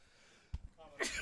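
A single short sneeze during a high school football broadcast, a quick faint burst close to the microphone.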